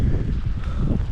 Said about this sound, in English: Oh man, the wind.